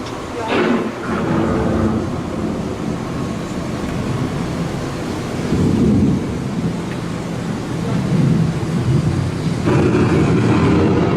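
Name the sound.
thunder of an approaching storm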